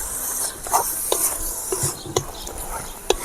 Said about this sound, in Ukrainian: Добре перемішуємо. Нехай тушиться.